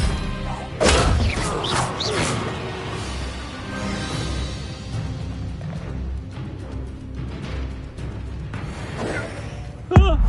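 A spell impact from the Hogwarts Legacy video game: a loud crashing smack near the start, then a dense, busy stretch of game effects and music, with a sharp hit close to the end.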